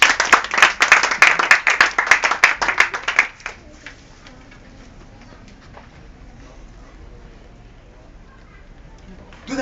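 A church congregation bursts into loud applause and cheering for God, dense clapping for about three seconds that then drops away to quiet room tone.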